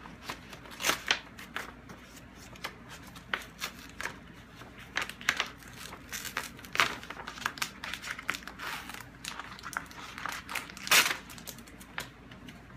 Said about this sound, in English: I'm ripping the envelope